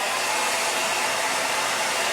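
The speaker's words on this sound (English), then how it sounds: "I'm going to hit this with a hairdryer" A hair dryer blows loudly and steadily over a painted doorhanger, a constant close-up rushing whir with no talking.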